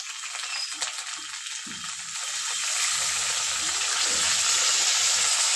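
A small splash of water hits ginger and green chilli paste frying in a pan, setting off a loud, steady hiss that swells and holds for several seconds, with a few faint clinks underneath.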